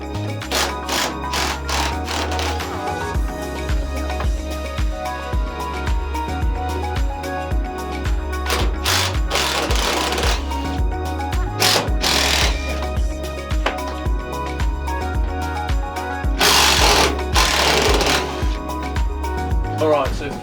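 A power tool drives screws out of a van's bulkhead during a camper van conversion, giving repeated short whirring bursts with a steady mechanical drone underneath, close and fairly loud.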